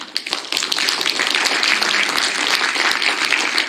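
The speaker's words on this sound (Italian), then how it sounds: "vi chiedo davvero un forte applauso per loro" Audience at a literary prize award ceremony breaks into applause for the jury, the clapping building quickly from scattered claps to a dense, sustained ovation.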